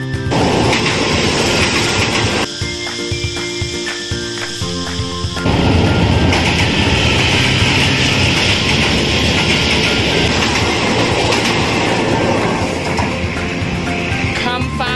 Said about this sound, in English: train is coming over there.